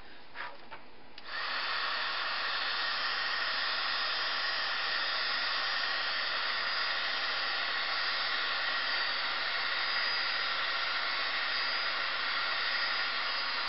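A craft heat tool blows hot air over embossing powder to melt it. After a brief quiet start it switches on and gives a loud, steady whirring rush that runs without a break to the end.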